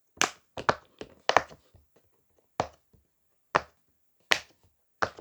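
Sharp, crisp pops from a silicone pop-it fidget toy pressed one at a time, close and irregular, with short pauses between the clicks and no talk.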